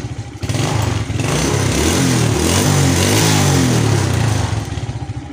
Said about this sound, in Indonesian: Kita nyalakan motornya.